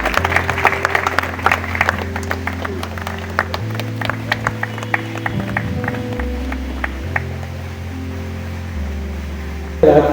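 Audience at a corporate Republic Day celebration clapping, scattered applause under a low musical drone and a voice, ending with a louder burst.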